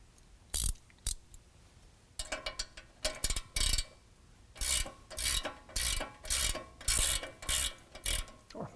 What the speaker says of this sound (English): Now I'm going to use an 18 millimeter, go ahead and finish taking this nut off.